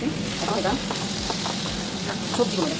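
Vegetables sizzle steadily in a hot pan: carrot, cauliflower, potato and tomato cooking at home. The frying is loud and continuous for the whole stretch, with faint stirring sounds mixed in.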